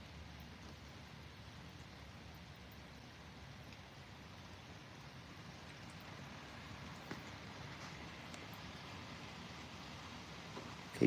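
Steady, even hiss of storm rain heard through an open door falls continuously at a moderate level, with no talking and only a faint tap near the end.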